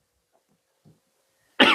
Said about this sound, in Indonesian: Bentar, kita batuk dulu sedikit.